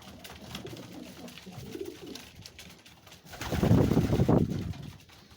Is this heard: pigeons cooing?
yes